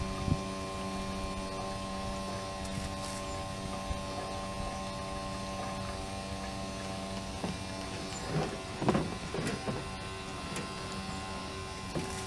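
A Harbor Freight transfer pump runs with a steady electric motor hum and whine, holding a constant drone throughout, with a few louder clunks and rattles near the end.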